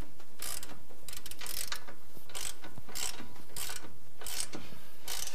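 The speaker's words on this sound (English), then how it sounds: "throw a wrench on the front, socket on the back, and we'll tighten it down." A wrench and socket ratchet tighten a suspension bolt on a Subaru during an all-terrain lift kit install, heard as a run of sharp, repeated ratcheting clicks in quick bursts, close and loud without talk.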